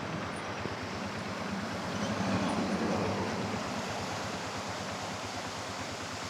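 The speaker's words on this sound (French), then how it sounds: "je vais m'arrêter un petit peu plus longtemps devant cette cascade" A waterfall in the Malagasy countryside gives a steady, dense broadband rush that swells slightly midway, continuous and fairly close with no voices.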